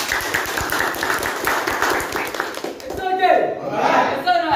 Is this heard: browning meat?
no